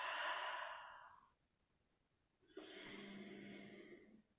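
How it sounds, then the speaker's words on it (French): A slow exhale through the mouth during a guided relaxation breathing exercise, one soft airy breath fading out, then another breath a moment later, close and calm with no talking. "Et expirez par la bouche."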